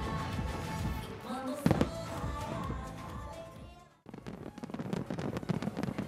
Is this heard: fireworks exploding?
yes